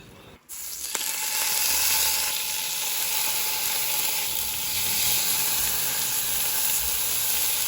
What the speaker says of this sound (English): Bacon is still cooking